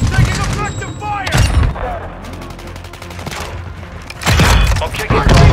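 Gunfire in Call of Duty Modern Warfare 2 on the Shoot House map: repeated sharp shots and rapid bursts, some near and loud, others quieter, with radio-style voice callouts over the fighting.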